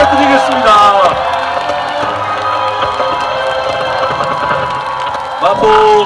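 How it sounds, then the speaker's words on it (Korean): A crowd at an outdoor unveiling ceremony for a Mapo circular train-bus cheers, whoops and claps, with children's shouts mixed in, loud and continuous, while a presenter's voice and a melodic tone carry over the top. "여러분들 다시 한번 큰 박수"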